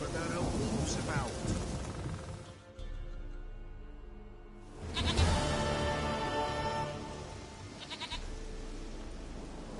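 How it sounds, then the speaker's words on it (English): A goat bleats in a video game, loud and close, with a droning bed of game sound throughout and a brief quiet gap midway. "Goat of mine, dearest, sweetest goat."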